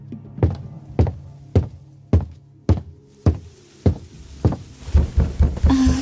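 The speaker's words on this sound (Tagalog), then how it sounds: "Nagising ako sa malakas na katok ng pintuan." Loud, heavy knocking on a bedroom door, about a dozen evenly spaced thuds, speeding into a quicker cluster toward the end amid a faint background hiss.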